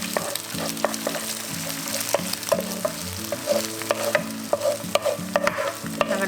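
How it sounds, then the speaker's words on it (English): Eggs scramble in hot vegetable oil in a frying pan, a spatula scraping and stirring in quick rhythmic strokes over a steady sizzle, close and alone. "To the same pan, add more vegetable oil and add in the eggs."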